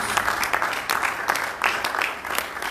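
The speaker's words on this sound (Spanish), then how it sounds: "¿Cuántos le dan un aplauso al Señor?" A church congregation claps for the Lord, a short burst of fairly loud applause with rhythmic, pulsing claps, as though many hands keep time together.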